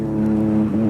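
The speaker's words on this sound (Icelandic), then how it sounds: "Nei, ég gef það til botn, Heimir." Car engine roaring at full throttle in a chase, a loud sustained revving drone that stays steady and close throughout.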